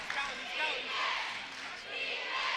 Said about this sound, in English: Crowd chanting defense.